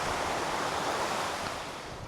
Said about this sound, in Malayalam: ഇവിടെ ഒരു വെള്ളച്ചാട്ടമാണ്.